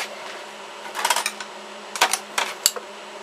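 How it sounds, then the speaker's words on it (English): A screwdriver removes screws from a crossbow handle, producing a few short clusters of light clicking and scraping ticks, close and fairly quiet, with no voices. "get a screwdriver and remove the screws"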